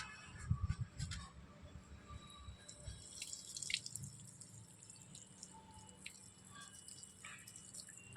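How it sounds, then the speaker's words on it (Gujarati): Water poured onto soil in a potted plant after DAP fertiliser granules are added, with dripping and trickling, faint and close, the strongest splashes near the start and then a quieter steady trickle. "પાણી પાઈ દેવાનું."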